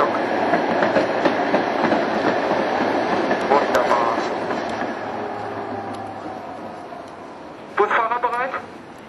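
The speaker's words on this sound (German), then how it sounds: "Die Bahn fährt in den nächsten Sekunden ein." Train or tram pulling into a stop, a steady rolling rumble with rattling clicks that slowly fades as it slows, under a voice talking, ending with a brief squealing brake screech.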